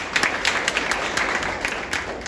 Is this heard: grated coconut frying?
no